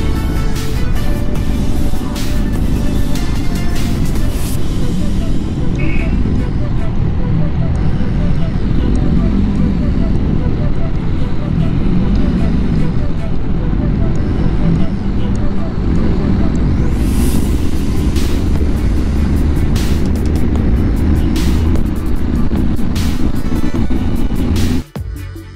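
Steady roar of traffic on Aguinaldo Highway heard from a moving motorcycle, loud and continuous with low engine rumble and wind throughout, ending in a brief abrupt drop.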